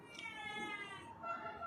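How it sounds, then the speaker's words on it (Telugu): A cat meowing close by, with a long drawn-out cry and then a shorter second one, faint against a quiet background. "చూడండి పిల్లి ఇది"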